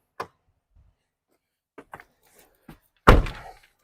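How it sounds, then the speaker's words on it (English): The door of a police Chevrolet Tahoe slams shut with one solid thunk near the end, after several small clicks and taps from handling the door. "I'll close this door so we can get the corners lit"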